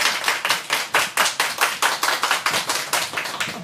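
Audience at a book launch for a publication on Vietnamese language and identity claps steadily and fairly loudly, a dense even patter of many hands welcoming a speaker, with no voices over it.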